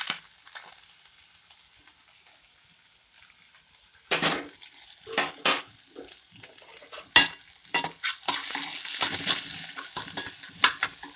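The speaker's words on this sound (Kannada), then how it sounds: "ಈಗ ಒಗ್ಗರಣೆ ಚೆನ್ನಾಗಿ ಸಾಗಿದೆ." Spice tempering for banana-flower palya crackles in hot oil in a pan; after a quiet opening, a spoon scrapes and stirs in repeated bursts over a bright, close sizzle that swells louder toward the end.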